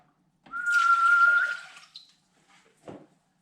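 A steady stream of water pours into a pot on a stove for about a second, a short hiss, then a couple of faint clinks and a brief splash.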